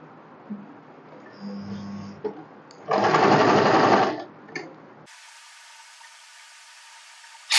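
A sewing machine stitching pleats on a cotton summer dress runs in a short loud burst between quieter handling noises, followed by a flat hiss, close and with no clear talk.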